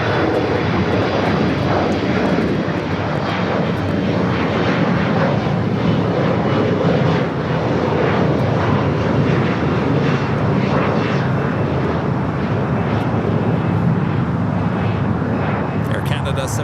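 An Air Canada Boeing 777 taxiing across runway 25 right at Los Angeles International Airport gives a loud, steady jet engine roar throughout, with radio voices talking over it.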